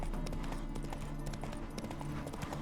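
A horse's hooves clip-clop steadily at a walking pace in The Witcher 3 video game, soft and fairly close, with some background game ambience.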